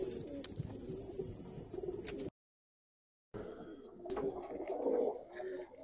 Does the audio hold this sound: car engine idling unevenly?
no